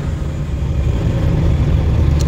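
A car engine rumbles steadily close by, with a low continuous drone and a slight rise in revs as the vehicle picks up speed to overtake in traffic.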